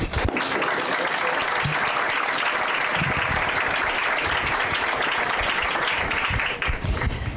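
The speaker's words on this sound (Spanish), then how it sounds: "Un aplauso, por favor." Sustained applause from an audience at a human rights and democracy conference, dense steady clapping filling the room at even loudness for several seconds.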